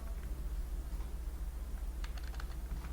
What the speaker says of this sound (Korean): 엔터를 쳐서 엔터 엔터 엔터 엔터를 좀 많이 쳐야 되네